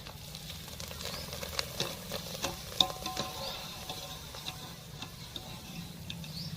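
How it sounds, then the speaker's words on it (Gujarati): Thin tube-shaped bhungla fryums fry in hot oil, a soft continuous sizzle with scattered ticking crackles and occasional stirring clinks, quiet and close. "તો હવે અહીંયા ઝીણી ભૂંગળી તરાઈ રહી છે."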